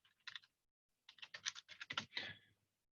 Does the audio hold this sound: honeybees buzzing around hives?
no